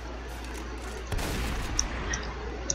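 Gunfire in a prison-break video game, a burst of shots starting partway through with a few sharper cracks after, loud over steady background noise.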